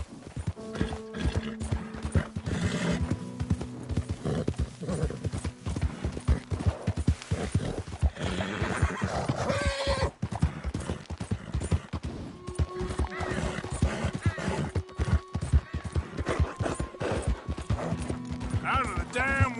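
Horse hooves clip-clop in a rapid galloping rhythm throughout a PS4 video game, with occasional whinnies and neighs, close and loud, with game voices and a player talking over it.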